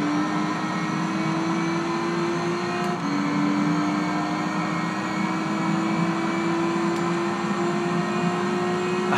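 Race car engine in Gran Turismo 3 on PlayStation 2, a loud continuous drone whose pitch climbs slowly, dips at a gear change, then rises again, with no voices.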